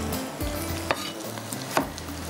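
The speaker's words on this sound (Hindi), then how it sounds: "हल्का सा इसको फ्राई करेंगे, कच्ची पक्की प्याज, साथ में टमाटर" Onions and tomatoes fry lightly in a pan, giving a soft steady sizzle close by with a couple of small stirring knocks and no talk.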